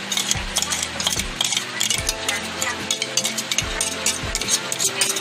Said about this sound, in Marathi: तर इथे तुम्ही पाहू शकता आपलं तूप छान प्रकारे गरम होत आहे. तर याच्यामध्ये आता आपण खोबरं टाकून घेणार आहे.